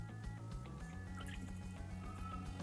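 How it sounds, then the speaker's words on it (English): Lime juice drips in quick, faint repeated drops into a calamari mixture, a soft irregular patter close by. "Now we're just gonna mix a few drops of lime juice"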